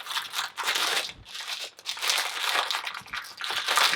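Plastic wrapper crinkling as it is pulled open by hand, a close, continuous rustle in several bursts with brief pauses.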